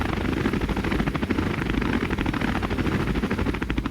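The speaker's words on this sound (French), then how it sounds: "Oh putain, on a un hélico, les gars." Helicopter in the ARK survival game setting down on a rooftop, a steady loud rotor chop and engine whine running continuously throughout, with no talk over it.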